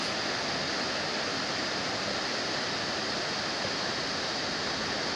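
The River Sett rushing near Torrs Hydro in the Torrs Valley at New Mills, a steady, loud, broadband roar of flowing water, continuous and close with no voices.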